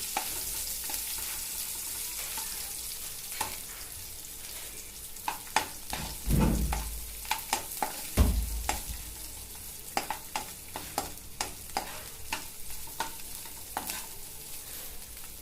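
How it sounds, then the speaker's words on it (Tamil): Chopped onions fry in a pan for homemade pasta, a steady sizzle broken by irregular scraping and clacking as a spoon stirs them, close and with no talking. "வெங்காயம் நல்லா தொலாவி கொடுக்கணும்."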